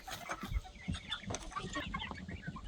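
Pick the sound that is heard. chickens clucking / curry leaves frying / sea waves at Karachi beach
chickens clucking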